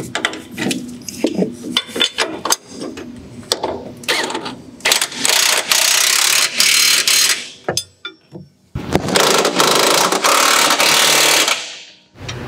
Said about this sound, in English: This is an SP Tools 3/4-inch drive impact.